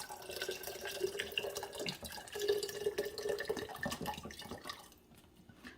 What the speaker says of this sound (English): I'm gonna pour in about a cup of the mango margarita flavor.